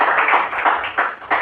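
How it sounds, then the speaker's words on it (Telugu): Church congregation clapping hands during a Telugu sermon, a brief burst of several quick, moderately loud claps in loose rhythm with no talking over them. "నమ్మిన వారు మాత్రం చప్పట్లు కొట్టండి అర్థమైతే"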